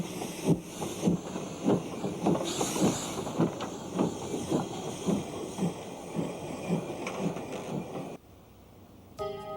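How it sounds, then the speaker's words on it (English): A locomotive departing Bewdley toward Bridgnorth, filmed in 1967 on a European railway: heavy rhythmic chuffing beats repeating steadily, loud and fairly close with hissing steam above, then fading abruptly to near quiet at the end. "The locomotive gracefully departs from Bewdley on its way to Bridgenorth."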